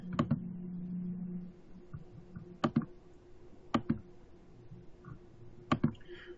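Sharp, quiet computer mouse clicks, spaced irregularly, some in quick doubles, over a faint steady hum with no speech.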